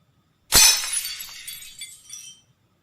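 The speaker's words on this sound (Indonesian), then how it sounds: "Oke, ada bunyi gelas yang pecah." A glass shatters in one sharp crash, followed by about two seconds of tinkling shards settling, loud and close with silence before and after.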